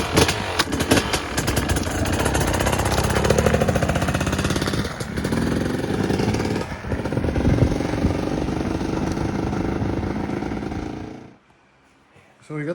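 A Husqvarna TPI two-stroke dirt bike with studded tires runs on a cold trail, a loud, continuous buzzing engine that revs and varies for about eleven seconds before cutting out abruptly.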